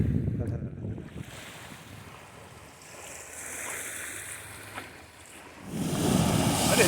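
Waves washing on the Lake Erie shore, a soft, steady surge rising and falling under gusty wind buffeting the microphone, with no one speaking.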